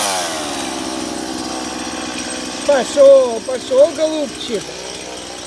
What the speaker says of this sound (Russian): This chainsaw has got some problems.